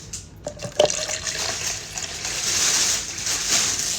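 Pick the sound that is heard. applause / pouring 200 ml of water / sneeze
pouring 200 ml of water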